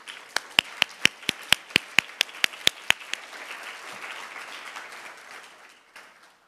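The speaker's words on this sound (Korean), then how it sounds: "여러분 큰 박수 부탁드립니다" An audience at a conference session claps, with a dozen sharp rhythmic claps up front merging into general applause that gradually fades away.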